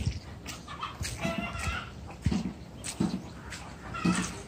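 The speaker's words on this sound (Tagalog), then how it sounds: "Marami ditong manok." Chickens cluck and squawk in short bursts close by, with scattered other barnyard noises and a few faint voices in the background.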